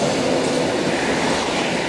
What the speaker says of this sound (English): More Z-Class trams.